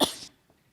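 One short, harsh cough bursts out close to the microphone, then fades into near silence.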